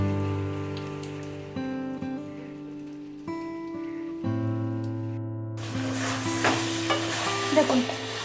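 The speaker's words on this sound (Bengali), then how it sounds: "দেখুন মাটনটা কষাতে কষাতে পুরো দই এর মধ্যে ঢুকে গেছে।" Mutton in yogurt sautés in a pan over high flame. A loud, crackling sizzle with stirring breaks in over the last few seconds, after steady tonal music that plays throughout.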